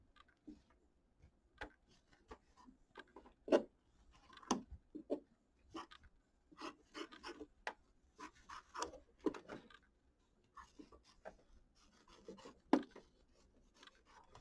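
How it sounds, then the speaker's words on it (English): Scissors trim quilt batting close to the stitching, making quiet, irregular snips and soft rubbing cuts at close range, scattered over the span with pauses between them. "Maybe if I can get my scissors to go."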